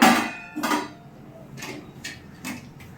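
A few sharp metallic clanks, like a pot being set down and shifted on a stove, spaced apart in a quiet room.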